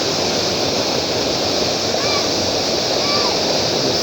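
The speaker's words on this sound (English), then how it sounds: "You can hear the sound of the river." Rushing water from a river at a riverbank forms a constant, close, broadband wash, with a couple of faint high chirps briefly audible above it.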